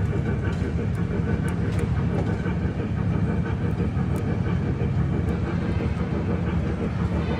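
Electric mall train ride rolls along with a steady rumbling drone and faint rhythmic rattling of its cars, continuous and moderately close, with a few light clicks above.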